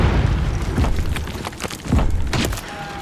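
Grenade explosions and battle noise in Call of Duty MW3 thump heavily with several deep booms and bursts. They are layered over a continuous rumbling din, loud and close, with no speech.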